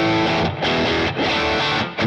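Electric guitar played through a Boss Katana amp with a booster pedal engaged, a thick driven tone in three sustained chord strums, each ringing then briefly dropping away before the next.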